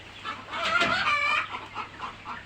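Chickens suffering in the heat of a tin-roofed poultry farm cluck close by. Drawn-out, strained calls rise and fall, and quieter clucking continues in the background.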